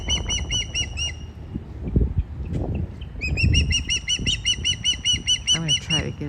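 A bird calls near its nest at Pigeon Key, Florida, with rapid, repeated, bright chirping phrases in two clear bursts over a low rumble of outdoor background noise.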